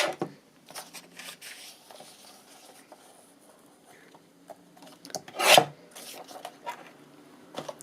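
A gel plate print is trimmed, with scattered dry scraping and rubbing of paper, close and quiet, and one louder rasping cut near the middle, no speech.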